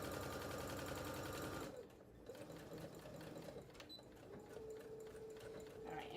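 A sewing machine stitching an accessory case runs in a fast, steady mechanical rattle for the first second and a half, then slows to quieter, intermittent stitching and handling sounds.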